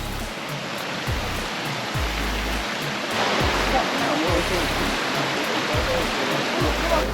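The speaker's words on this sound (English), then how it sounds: "Top of Wangi Falls." Wangi Falls, a waterfall in Litchfield National Park, pours in a steady, dense roar heard from the top of the falls, constant and fairly loud with low wind buffeting underneath.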